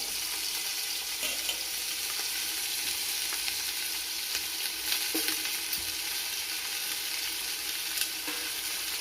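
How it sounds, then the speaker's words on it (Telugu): Chopped onions and green chillies fry in hot oil in a pan for veg biryani, producing a dense, continuous close-up sizzle with small pops and no voices. "దాంట్లో మొదటిగా తరిగిన ఉల్లిపాయలు, పచ్చిమిరపకాయలు వేసుకోవాలి"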